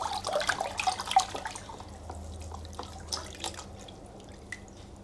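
Water is stirred by hand in a foot soak tub at home, giving soft splashes and drips that are louder at first and then fade to faint, scattered trickles.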